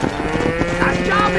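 Cattle low in a Red Dead Redemption herding scene, several overlapping moos filling a short stretch at close range with a faint voice beneath.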